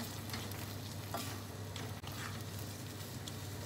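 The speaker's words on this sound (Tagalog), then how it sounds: "Lagay na rin po natin ang ating corned beef." Corned beef is added to a pot of sopas and stirred, giving a steady close sizzle with scraping spoon strokes and one brief dip in the middle, with no talk.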